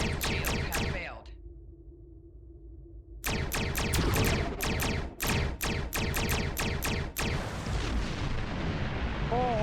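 Rapid repeated bursts of torpedo fire and explosions in the space combat game Star Trek Online, booming volleys broken by a short low hum, with an electronic warning voice behind the blasts.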